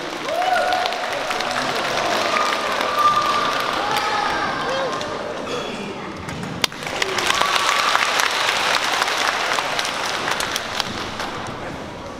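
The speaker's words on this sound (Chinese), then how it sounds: "掌声有请" Audience applause welcoming a performer onto a concert stage, sustained clapping and a crowd murmuring, with a host's voice at the start.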